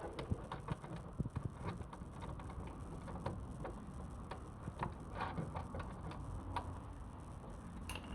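Wrench snugging nuts on mud flaps fitted to a 2022 Jeep Wrangler, with faint irregular ratcheting clicks and small metallic ticks heard close in a quiet space.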